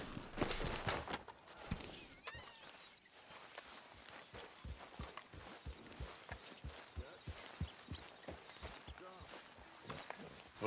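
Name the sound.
horse hooves walking in a video game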